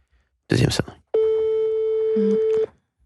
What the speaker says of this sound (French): Deuxième Mais- sonnerie.